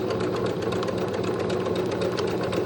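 A sewing machine runs a straight stitch with elastic thread on the bobbin for shirring, a steady close mechanical whir with a fast even needle chatter and no pauses.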